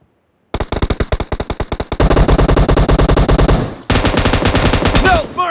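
Loud, rapid automatic gunfire from the video game PUBG, a sustained close burst of machine-gun shots that starts after a brief silence, pauses for a moment and resumes, ending with short sweeping tones.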